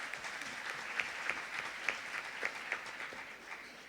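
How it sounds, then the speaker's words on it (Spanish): Audience members at a dermatology lecture on surgical wounds at the Pontificia Universidad Católica de Chile clap together. The applause is soft, distant and even, lasting about four seconds with a few sharper claps standing out. "Les pido también un aplauso"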